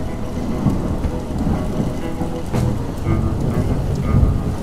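Heavy rain pours steadily in the Pyrenees mountains while thunder rumbles and cracks through the downpour, a dense, loud storm with no voices.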